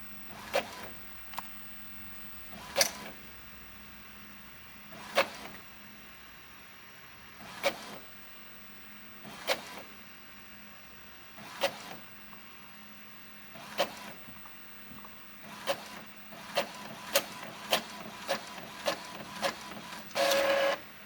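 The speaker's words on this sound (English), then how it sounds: "we're going to head on over to the printer and let this print out." Home printer printing a page for a back-to-school folder: a steady mechanical hum punctuated by repeated clicks and clunks every couple of seconds, quickening near the end before a brief whirring feed, close and alone.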